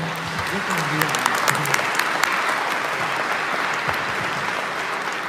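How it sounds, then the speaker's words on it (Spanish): An audience at a question session with a priest gives loud, sustained applause, with dense clapping and a few sharper claps running under faint voices throughout. "Merece un aplauso fuerte."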